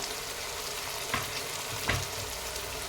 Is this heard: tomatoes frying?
yes